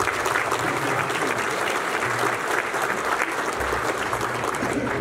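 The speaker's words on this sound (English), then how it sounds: "Let's give them a great round of applause." Sustained, dense applause from a luncheon audience at the 2023 NPTC Driver Hall of Fame event in Orlando, steady and fairly loud throughout with no speech.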